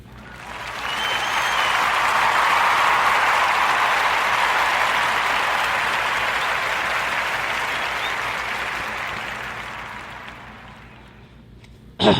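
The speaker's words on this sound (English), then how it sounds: "round of applause for his accomplishments" Applause for a young man's accomplishments that swells in over the first two seconds, holds as a broad, loud wash of clapping, then slowly tapers off over twelve seconds, ending with a sharp close thump.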